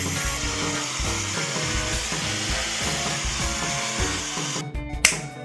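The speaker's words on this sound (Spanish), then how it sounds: "Una vez instalado, apretamos perfectamente y probamos la amoladora" Angle grinder with a freshly fitted disc runs in a test spin, a steady high whine close by with no talking, cutting off abruptly near the end.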